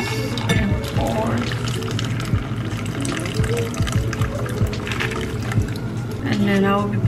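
Cocktail poured from a shaker into another glass, a steady liquid stream with faint clinks, heard under a busy room with background chatter.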